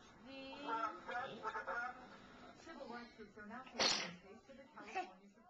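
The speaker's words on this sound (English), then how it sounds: "He sneezed." A child sneezes once, a short sharp burst midway through, in a hospital setting with nearby talking before and after the sneeze.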